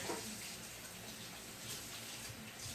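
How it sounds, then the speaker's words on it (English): Hands being washed under a running kitchen tap, a quiet steady stream of water splashing throughout at close range. "let me wash my hands"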